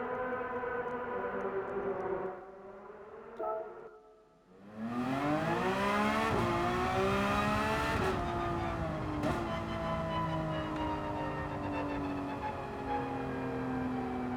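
A Porsche 911 GT3 R (992) '22 race car engine in Gran Turismo 7 revs loud and close, with a rising whine through the gears, a brief lift and drop in pitch, then sustained high revs.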